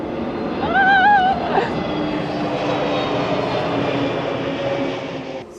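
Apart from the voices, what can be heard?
airplane flying overhead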